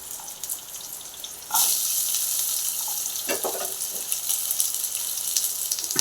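Shallots and garlic are dropped into hot coconut oil with fenugreek and sizzle, a soft hiss that jumps to a loud, steady frying crackle about a third of the way in and stays on.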